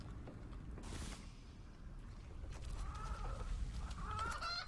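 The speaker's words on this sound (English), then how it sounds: "I can still hear more chickens" Chickens in the video game REKA cluck in short repeated calls against a steady low rumbling background, the clucks growing more frequent toward the end.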